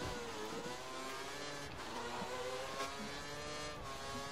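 An F1 race car in F1 2013 accelerates at the China circuit, a steady high-pitched engine whine rising and holding across the whole stretch, fairly faint, with faint tire noise and no talk.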